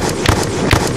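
Gunshots fired in a zombie video game, two sharp loud bangs about half a second apart over a steady rumbling background.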